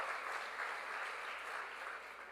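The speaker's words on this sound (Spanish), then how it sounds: "Dele un fuerte aplauso al Señor" A church congregation claps for the Lord in a steady, fairly quiet, even round of applause with no voices over it.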